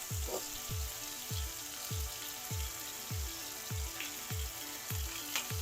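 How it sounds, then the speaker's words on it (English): A cod fillet sears in a hot pan, its soft continuous sizzle running beneath a loud, regular thumping music beat. "we're just going to sear both sides"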